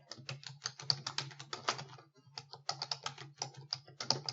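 Computer keyboard keys clatter in quick, uneven bursts of taps close by while a spreadsheet entry is typed, with a short pause in the middle.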